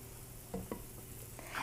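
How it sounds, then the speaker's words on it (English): Rice being stirred in a pan: two or three soft, close scrapes of a utensil over a low, steady kitchen hiss, brief and quiet. "let's stir our rice"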